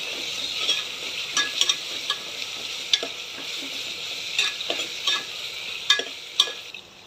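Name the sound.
khichdi ingredients being sautéed in a pan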